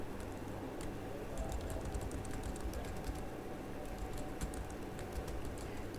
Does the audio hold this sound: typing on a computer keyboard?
yes